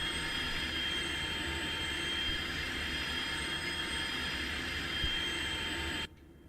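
An F-16's jet engine in the DCS flight simulator game drones as a steady, loud broadband roar with a thin whine, holding level before cutting off abruptly near the end as the throttle is pulled back.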